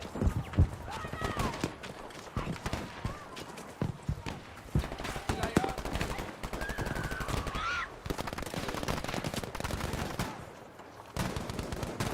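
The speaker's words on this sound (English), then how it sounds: "How's that guy shooting at me?" Rapid bursts of gunfire from Battlefield 5 crackle in repeated volleys over busy game ambience, with voices talking over much of it.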